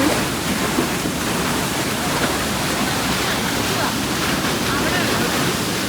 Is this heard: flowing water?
yes